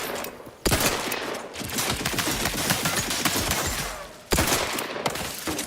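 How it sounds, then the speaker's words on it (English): Turret sentries in The Outer Worlds 2 open fire in rapid automatic bursts, a dense loud barrage that starts abruptly, runs for several seconds, pauses briefly and then resumes. "Warning. Turret sentries ahead."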